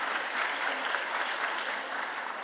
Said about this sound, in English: So a big round of applause for them as well.